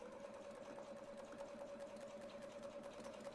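A domestic sewing machine stitches a quilted clamshell pattern along a template with a steady, close, continuous motor whir and rapid needle chatter, heard alone.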